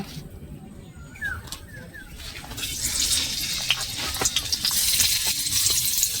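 Spiced pumpkin pieces for pumpkin fritters frying in hot oil, close by: a low, crackly sizzle that swells into a loud, continuous hiss with scattered pops after a couple of seconds.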